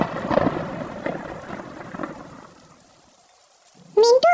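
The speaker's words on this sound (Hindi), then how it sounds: "बारिश भी हो रही है" Cartoon storm effect for a Panchatantra goat tale: a rushing wash of rain with rolling thunder rumbles that gradually fade to near quiet, then a short, loud, tonal cry bursts in at the very end.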